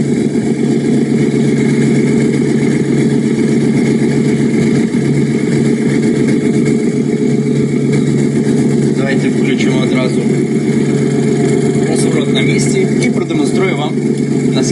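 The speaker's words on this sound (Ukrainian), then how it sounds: "Заводиться трактор легко." A Japanese mini tractor engine runs with a steady, loud mid-pitched chugging drone throughout, with a few brief clicks and rattles near the end.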